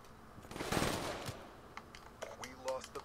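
Gunfire in Black Ops 3 search-and-destroy play, a short burst of two or three close shots followed by quieter scattered clicks and faint in-game sounds.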